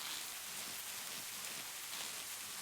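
Steady rain falls in the farming game Society: Sunlit Valley, a soft, even hiss that holds unbroken for the whole stretch with no voices over it.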